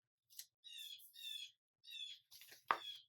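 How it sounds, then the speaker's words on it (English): A bird chirps outdoors in a series of bright, short tweets and trills, fairly faint against a quiet background, ending with one sharper call. "Hear that bird?"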